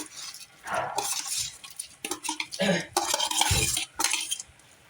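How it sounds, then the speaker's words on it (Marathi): Rice being added to a pot of boiling water for paneer dum biryani, with clinks of a utensil against the pot, scraping and splashes in irregular bursts, close and fairly loud, no talk. "याच्यामध्ये आता मी हा जो राईस आहे ना त्याला ॲड करणार आहे"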